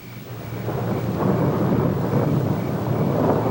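Thunder from a 1953 television drama rumbles low and steady for several seconds, a continuous rolling storm sound that stays loud throughout with no voices over it.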